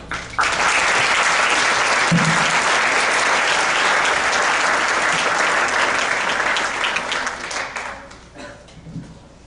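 A symposium audience applauds to welcome a speaker: a loud, full wash of clapping that sustains for several seconds, then tapers into a few scattered claps.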